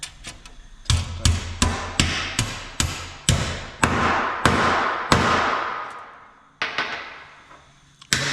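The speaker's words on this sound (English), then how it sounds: "I never thought to use a hammer." A steel hammer strikes aluminum sheet for riveting and dimpling on aircraft-style bomber seats, giving about a dozen sharp, ringing blows at an uneven pace, some in quick pairs, each decaying briefly before the next, loud and close with no talk.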